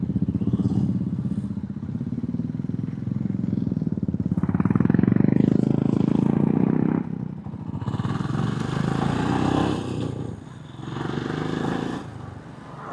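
A Royal Enfield motorcycle on a country road ride, the thumping single-cylinder engine loud and close, rising and easing as it slows and pulls away again, with wind rush and no talk.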